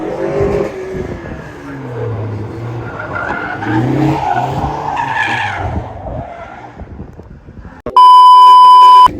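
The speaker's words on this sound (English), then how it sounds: "So next it was time to do some donuts in the Caterham Pursuit, the little playground arena area" Caterham car doing donuts in a small arena at Palmersport, with loud sustained tyre squeals and skidding over a revving engine, ending in a sudden loud electronic beep.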